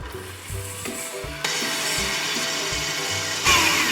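Cream cheese and caster sugar are beaten together in a bowl, a close, whirring machine drone with a steady rhythmic churn that lifts in pitch and loudness partway through and swells again near the end.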